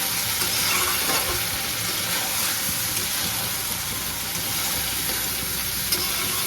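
Chicken kosha cooks in a covered pan over lowered heat, a steady close sizzle and hiss with faint stirring clicks running continuously without pause.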